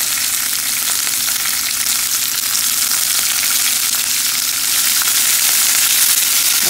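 Onion, curry leaves and chili fry steadily in hot oil for an upma, giving a continuous, loud, even sizzle with no voices.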